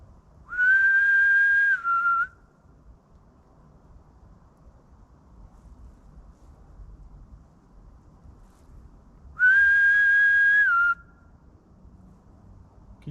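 Two long, steady whistles, each about a second and a half, separated by several seconds of quiet outdoor background hiss.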